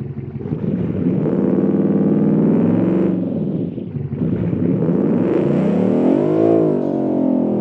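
A twin-turbo sports car engine in BeamNG, rumbling loudly up close and revving twice in strong rising sweeps, with no talk over it.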